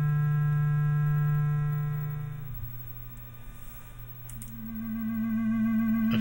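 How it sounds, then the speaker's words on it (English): A synthesizer on a Lazarus-64 prototype board plays a steady electronic tone whose volume swells, holds and fades, then a new pitched tone rises in, alone with no other sounds. "This test demonstrates the basic attack, sustain, and decay volume envelope."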